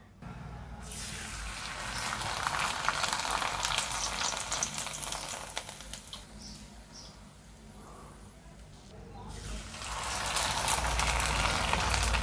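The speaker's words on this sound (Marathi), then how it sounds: "ही आता भातुडी तुम्हाला मी तळून दावते" Bhatudi papad frying in hot oil for a fasting papad recipe, a loud, steady bubbling sizzle that swells, eases off midway, then surges again near the end.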